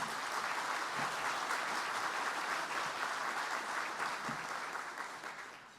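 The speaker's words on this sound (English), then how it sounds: "Let's give them a round of applause" An audience at an award luncheon applauds in a sustained, dense wash of clapping from a large room that holds steady for several seconds, then begins tapering off at the end.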